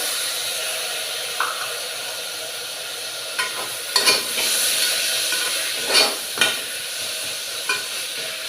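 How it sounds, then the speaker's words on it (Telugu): Chopped tomato pieces tipped into a pan of frying onions for a broad bean tomato curry, giving a steady close sizzle with scraping stirs and soft thuds, no voices. "ఉల్లిపాయలు వేగిపోయాయండి నెక్స్ట్ ఏమో మనం తరిగి పెట్టి ఉంచుకున్న టమాటా ముక్కలను ఇలా వేసేసుకోవాలి దానిలో"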